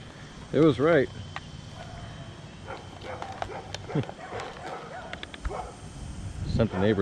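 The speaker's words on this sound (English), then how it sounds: "Sent the neighbor's dog into a frenzy." A neighbor's dog barks in a frenzy near a big oak during tree rigging work, two loud close barks first, then scattered fainter yips and outdoor clatter.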